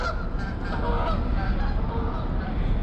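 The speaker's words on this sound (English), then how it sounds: "goose." Goose honking repeatedly, a series of nasal honks over a loud low rumble of background noise, fairly close and continuous across the short span.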